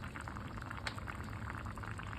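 Olan curry with coconut milk bubbles at a steady boil in a pot, a dense close-up simmer of popping bubbles that stays even and moderately quiet throughout.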